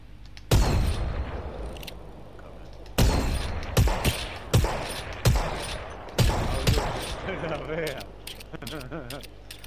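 Shots ring out in a shooter game from a player taking pot shots at distant enemies, several sharp, loud cracks in irregular clusters over about ten seconds, with brief gaps and ringing tails between.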